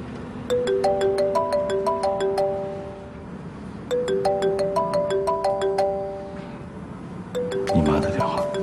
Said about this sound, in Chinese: 你妈的电话。